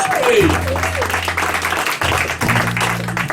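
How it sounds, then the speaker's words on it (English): A radio show audience applauds the piano player, a steady burst of clapping that pauses briefly and resumes, heard under a man's speech in a live country music setting. "how about a hand for Steve Morley on the piano over here"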